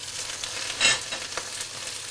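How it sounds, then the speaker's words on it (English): Freshly washed young leaf spinach hits a hot pan and wilts with a bright hiss, a sharp burst of sizzle early on, then a steady crackling fry that continues alone with no talking. "we're going to put the washed spinach into that"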